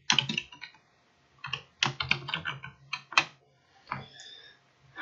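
Typing on a computer keyboard while entering figures into an Excel spreadsheet, quick irregular bursts of close, crisp key clicks separated by short pauses, with no voices.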